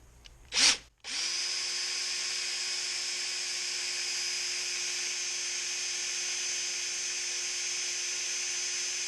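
A power drill on a Corona 3354 weeder repair job whirs steadily at full speed after a short start-up burst, a loud continuous whine close by with no talk over it.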